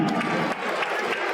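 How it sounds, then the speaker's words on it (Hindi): A crowd fills a Delhi Games 2025 opening ceremony with brief dense applause and cheering, a steady close wash of clapping. "जोरदार तालियों से अभिनंदन"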